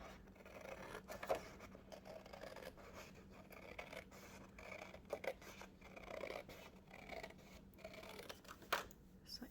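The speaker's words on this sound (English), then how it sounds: "I'm just going to trim these off. Just cut them right at the fold" Scissors snipping folded card stock close by, a series of quiet, crisp cuts and paper rustles at an irregular pace.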